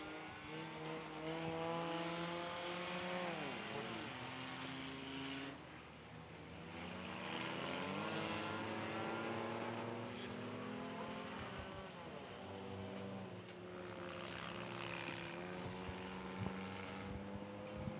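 Race cars lap Irwindale Speedway in a skid plate race, a continuous loud engine roar with pitch sweeping up and down as the cars accelerate, brake and pass, with no talk.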